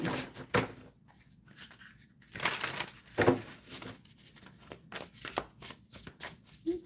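Oracle cards being shuffled by hand in quiet, irregular bursts of soft papery riffling and slapping, close to the microphone, with brief pauses between bursts and no talking.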